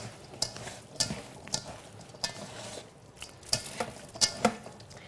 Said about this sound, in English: You add the shallots at the end. There you go. Chuck them in there. And then give it another little mix.